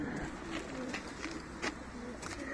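Tumbler pigeons cooing in a loft, several soft repeated coos close by, with someone talking over them.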